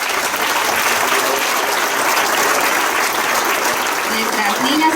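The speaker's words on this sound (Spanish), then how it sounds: "Un fuerte aplauso, por favor." A ceremony audience, with the nation's president present, breaks into steady, loud applause from many hands, a continuous dense clatter that holds at an even level throughout, with some crowd voices mixed in.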